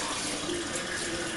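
Soaking water pouring from a jar through a nut milk bag holding wheat berries, a steady close splashing trickle that runs unbroken with no voices.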